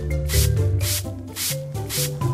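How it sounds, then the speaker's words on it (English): Repeated spray-bottle spritzes wash dinosaur fossil finds in a kids' mobile excavation game, about five evenly spaced hissing bursts over steady game music, no talking. "Let's run the spray bottle over the findings to wash them."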